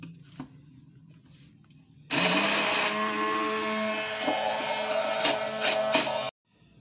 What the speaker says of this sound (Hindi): 1 टेबलस्पून शुगर जाएगा इसमें। इसको अच्छे से ब्लेंड करेंगे दोबारा।